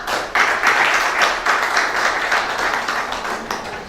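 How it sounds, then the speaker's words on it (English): Audience applause at an accessible digital content workshop session, a steady wash of clapping from a modest crowd that starts abruptly and holds at an even level for several seconds. "please join me in giving Monica another round of applause"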